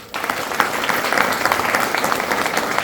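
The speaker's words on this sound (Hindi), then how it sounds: "मैं चाहूंगा दिल से उन सबको एक बार जोरदार तालियां।" Audience applause at a business presentation in Nashik, a dense steady clapping that starts sharply after a brief quiet moment and holds at an even level to the end.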